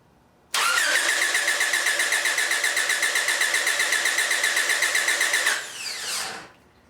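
A car engine cranks with a newly fitted starter in a no-start diagnosis, a loud, close, rapid rhythmic churning lasting about five seconds before winding down and stopping.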